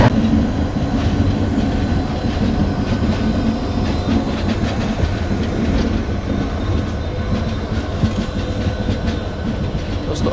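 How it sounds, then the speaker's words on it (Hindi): The Pooja Express rushes past from the opposite direction, a loud continuous roar of wheels and clattering carriages close by, heard from aboard a moving double-decker express near Rewari with no talk. "सामने से आने वाली है पूजा एक्सप्रेस,"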